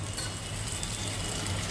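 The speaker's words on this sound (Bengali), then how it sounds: "এইবারে পেঁয়াজটাকে আমি লাল করে ভালো করে ভেজে নেব।" Onions frying in a pan over a high gas flame, a steady dense sizzle holding at an even level throughout, close and fairly loud, with no voices.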